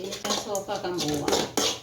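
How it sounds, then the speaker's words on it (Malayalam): A metal spoon stirs roasted grated coconut in a pan after the gas is switched off, giving close, continuous scraping and clinking against the metal. "തേങ്ങയുടെ ഗ്യാസ് ഓഫാക്കി കഴിഞ്ഞ് ഇളക്കിക്കൊണ്ടിരിക്കുകയാണ്."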